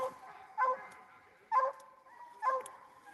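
A dog barks three times at steady intervals, moderately distant and outdoors, with short yelping calls over faint background noise.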